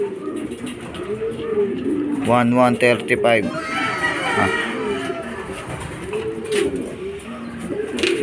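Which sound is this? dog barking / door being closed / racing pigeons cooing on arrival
racing pigeons cooing on arrival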